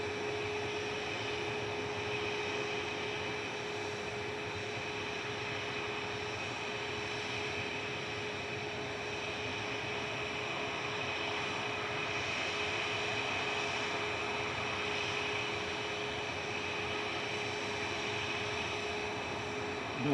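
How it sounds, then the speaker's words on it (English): Steady jet engine roar of a Ryanair passenger plane arriving from Dublin at Manchester Airport, a continuous broadband rumble with a faint tonal whine, holding fairly even for the whole stretch without voices. "Next in will be Ryanair from Dublin."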